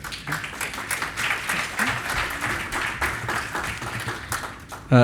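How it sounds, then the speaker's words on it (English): Conference audience applauds a panelist walking onstage at a tech forum, a steady round of many hands clapping at a fairly close, lively level, ending with a louder thump. "Please, one round of applause."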